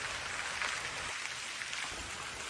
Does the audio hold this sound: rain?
yes